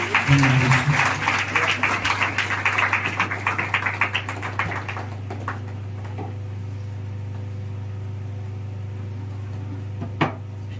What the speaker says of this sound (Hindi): प्रभु के लिए ताली बजाएंगे।